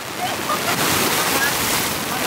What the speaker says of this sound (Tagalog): Ang lakas ng alon, men.